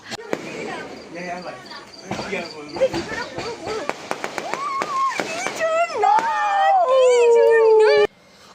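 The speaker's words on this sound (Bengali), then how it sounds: "এখানে দেখতেই পাচ্ছ কি সুন্দর বাজি ফাটছিল" Fireworks burst on the eve of Holi (Dol), a run of sharp cracks and pops at varying distances, heard under lively voices and rising whistling tones.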